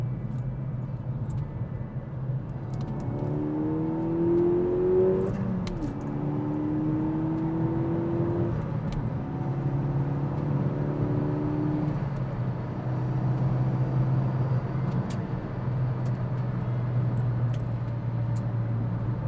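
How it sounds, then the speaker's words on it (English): A constant low rumble of tyre road noise fills the cabin of a moving car on a rough road surface, with faint engine tones rising and falling underneath and no voices. "The noise over this road surface is horrendous with these tyres."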